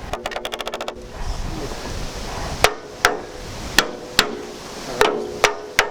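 A copper mallet strikes a splined part on a Land Rover Series 3 under restoration, a sharp metallic knock about every half second. The blows come up close and ring briefly, after a quick burst of lighter taps at the start.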